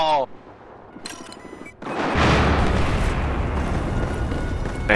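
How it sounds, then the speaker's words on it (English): Battlefield 4 Naval Strike gameplay erupts into loud, sustained gunfire and heavy explosions after a brief pause, a dense continuous roar of booms and shots filling the second half. "Now they're shooting."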